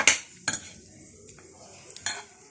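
Ingredients are mixed in a bowl for a batbout dough with a cold filling, giving a few separate close utensil clinks and scrapes against the bowl, with quiet gaps between them.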